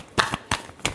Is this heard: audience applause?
no